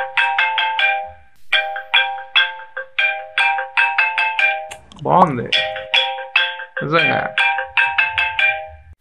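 An iPhone 15 ringtone plays at full volume from the phone's speakers, a bright repeating melodic pattern of short chiming notes throughout, briefly interrupted twice by someone speaking.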